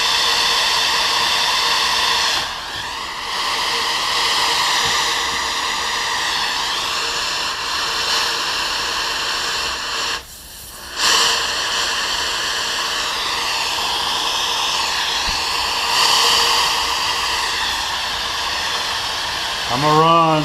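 An air-powered drill bores a hole in an exhaust manifold during a repair, a loud, steady pneumatic whine and hiss running nearly throughout, with a brief drop around the middle before it resumes.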